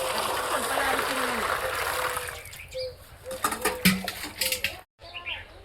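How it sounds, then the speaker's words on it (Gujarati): Water is poured into a clay pot in a village, with a steady rushing pour that gives way to lighter splashes and clinks of the vessel while people talk nearby. "માટલું મારે ભરવાનું હોય પાણી મારે ભરવાનું હોય"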